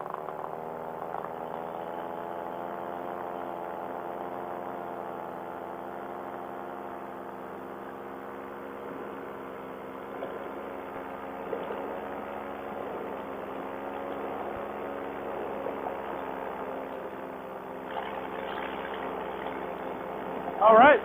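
A PAP paramotor engine drones steadily through takeoff, a continuous mid-pitched hum heard from a distance with a faint voice over it.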